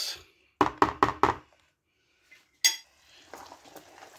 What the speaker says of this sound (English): And can we give that a good mix?